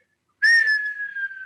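A person whistles in imitation of a falling bomb: one loud, close descending whistle that begins abruptly and glides down in pitch, then holds a steady tone to the end, with no other sounds.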